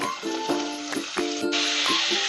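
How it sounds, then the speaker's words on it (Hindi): Garlic and spring onions sautéing in hot oil for a Chicken Manchurian gravy, giving a loud, close sizzle with repeated clinks and scrapes of a spatula against the pan. "अब हम इसको सौटे कर लेंगे।"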